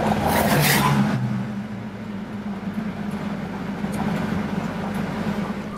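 Old ex-US Army Willys jeep driving along a road, a steady rumbling engine and road noise with a louder whoosh at the start, continuous and close.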